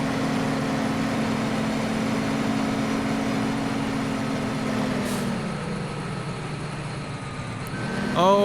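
In Farming Simulator 15, a tractor pulling a tanker gives a steady, droning engine hum that slowly drops in pitch, then ends with a short whine and a rising rev.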